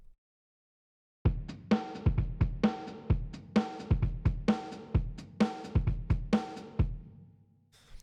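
Overdriven drum loop programmed in Ableton, played with a high-cut filter whose cutoff rises over time, so the steady pattern of punchy kicks and snares grows gradually brighter; loud and alone, ending in a short decaying tail.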